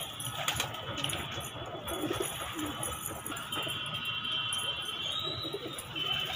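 A wild pigeon on a rooftop nest beside a white female brooding eggs, soft cooing and occasional wing flaps over outdoor ambience with faint background noise, no one speaking.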